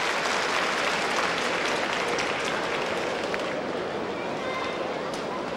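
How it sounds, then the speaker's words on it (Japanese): Sustained, loud crowd applause fills an arena at the All Japan judo championship after a quarterfinal bout, a dense steady roar of clapping with no gaps throughout. "場内からも大きな拍手が送られました。"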